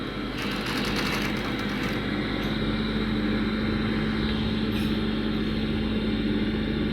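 A sewing machine stitches a gents' kameez collar with a continuous, loud motor whir and a steady drone throughout, and no pause in the running.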